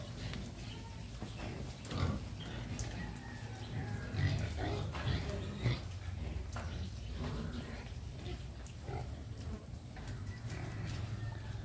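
Pigs oink and grunt on a farm in a steady low chorus, with a few louder snorts standing out and voices talking faintly over them.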